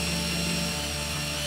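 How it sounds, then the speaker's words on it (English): A power drill bores pilot holes into wood for a picture frame, a steady high whine with a sustained motor hum running throughout at moderate volume, close by and without talk. "But first we're gonna be drilling pilot holes."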